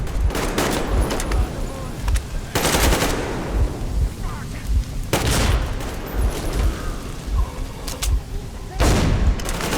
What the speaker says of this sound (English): Someone's shelling us with grenades.